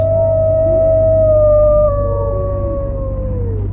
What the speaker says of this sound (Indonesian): lolongan anjing juga terdengar di tengah malam di saat keadaan sangat sunyi